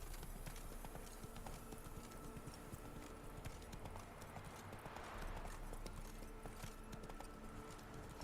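Horse hooves galloping in the video game The Witcher 3, a steady fast clip-clop rhythm running throughout, moderately near under a wash of in-game ambience and background music.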